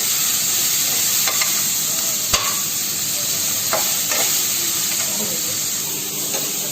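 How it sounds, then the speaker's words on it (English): Tomatoes sauté with cooked vegetables in a pan for stuffed kulcha filling, a dense, even sizzle with occasional clinks and scrapes of a stirring spoon. "For 2 minutes again we will saute tomatoes till they are soft."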